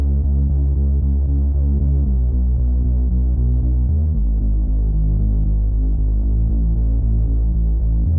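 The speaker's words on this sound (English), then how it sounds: "But this is the sub bass and re-bass." A deep, heavily sustained sub bass in electronic music production throbs steadily with a low humming tone, shifting pitch partway through and continuing loud and unbroken.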